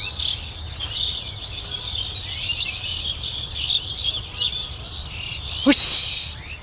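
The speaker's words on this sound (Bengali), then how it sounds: "দেখেন কি পরিমাণ পাখির কিচিরমিচির শব্দ শোনা যাচ্ছে।" Dense chorus of many birds chirping and calling from trees in a Dhaka green spot, steady and bright throughout, with a louder burst of flapping or calls near the end.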